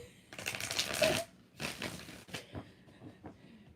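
Tarot cards being shuffled by hand, a few bursts of riffling and flicking card noise, close and fairly loud, with no talking.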